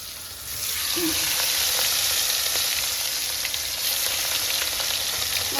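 Pieces of katla fish hit hot oil and set off a loud, close, continuous sizzle that holds steady throughout.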